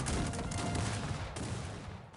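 Cannon fire in Cossacks 3 during a Swedish campaign battle at Breitenfeld, mixed into a dense, continuous roar of battlefield gunfire and booming blasts that stays loud throughout and eases slightly toward the end.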